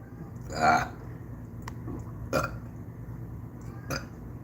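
A loud, close burp rises and fades, followed by two shorter, quieter belch-like sounds a couple of seconds apart over a low background hum.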